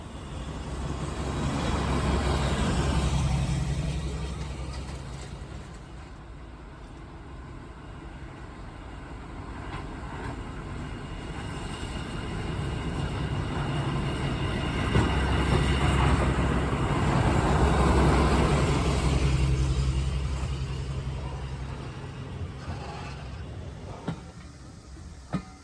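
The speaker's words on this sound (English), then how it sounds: "we could pass one of the other trains, which was being hauled by the Class 52 Western Champion" A Class 52 Western diesel-hydraulic locomotive rumbles past with a deep low drone, swelling twice as it passes, amid steady rolling rail noise on a heritage railway; no voices.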